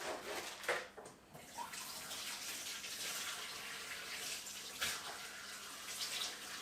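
Cold water runs steadily from a tap with splashing as hands scoop and wash a face, close by and fairly quiet, no talking.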